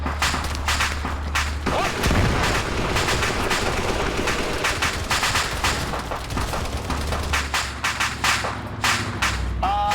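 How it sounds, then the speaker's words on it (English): Rapid bursts of machine gun fire crackle through a sci-fi orbital insertion video game battle, loud and dense throughout with sharp repeated shots and heavy low rumble underneath. "machine gun fire"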